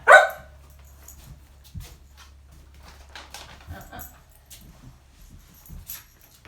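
A dog barks sharply once at the start during leash and settle training, then only faint scattered sounds and low rumble follow.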